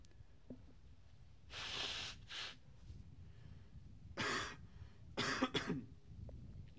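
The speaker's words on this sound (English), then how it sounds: "I want to get rid of this cough" Several harsh smoker's coughs in separate bursts, a pair early and a cluster later, close to the listener with quiet breathing between.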